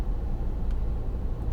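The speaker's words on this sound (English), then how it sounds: "there's all sorts of cars coming now" Steady roadside traffic rumble from cars going past, a low continuous wash of tyre and engine noise with faint passing swells and no talking, heard near a 2014 Volkswagen Tiguan 2.0 TDI BlueMotion.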